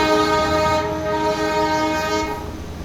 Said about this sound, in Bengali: দার্জিলিং ঢুকেই আমাদের টয় ট্রেনের সাথে দেখা মিলল।